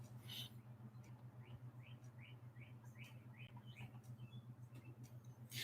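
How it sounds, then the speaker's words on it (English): Birds chirp outdoors in a quick run of short, faint, rising tweets at a steady pace, set against a constant low hum and soft background noise. "the birds are really chirping out there"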